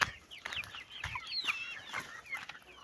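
Several chickens cluck and chatter in a garden, with short, close, busy calls overlapping at an irregular rhythm over a quiet background.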